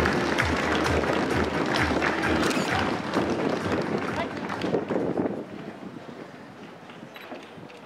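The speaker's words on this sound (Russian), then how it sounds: "Ваши аплодисменты." Outdoor crowd applause at the opening ceremony of an Italian culture day in Minsk, broad steady clapping mixed with wind noise on the microphone, fading down over the last few seconds.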